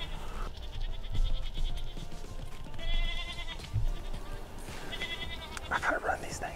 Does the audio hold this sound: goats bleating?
yes